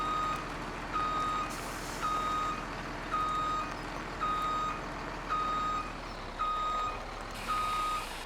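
Truck reversing beeps in Farming Simulator 17, a regular series of eight clear electronic tones about one second apart over a low engine hum, with no talk.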